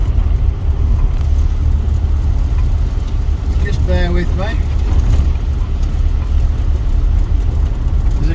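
Steady road noise and tire rumble from a car moving quickly over wet slush with ice underneath, with a brief voice speaking midway.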